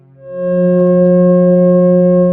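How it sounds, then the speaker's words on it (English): Two steady electronic tones, F sharp and C sharp, sounding together a perfect fifth apart, a sustained harmonious drone that swells in and holds evenly at a loud level. "They are F sharp and its perfect harmonic fifth of C sharp."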